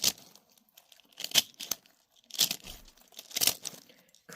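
A crunchy sensory squish toy being squeezed gives off bursts of close crinkling and crackling, four distinct squeezes spread evenly with short quiet gaps between them, and no one speaking.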